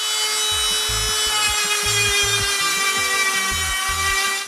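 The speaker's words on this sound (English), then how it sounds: "I start with a Dremel tool by rounding over all the edges." A Dremel rotary tool rounds over the edges of small wooden intarsia pieces for book ends, giving a loud, steady high-pitched whine with a pulsing grinding rhythm as the bit works the wood.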